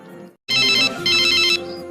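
A telephone ringtone rings out loud and close in a home setting, two bursts of a bright electronic warbling tone separated by a short gap, following a brief pause of silence, with no talking over it.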